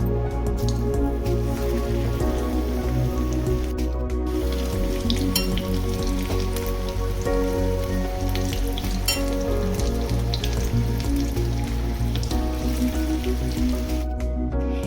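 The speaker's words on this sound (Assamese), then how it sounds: "মই বেচনৰ কোট কৰি এটা এটাকৈ ভাজি ল'ম" Steady, continuous sizzling of stuffed, gram-flour-coated bitter gourd frying in hot oil, loud and close, with no voices and a constant crackling texture throughout.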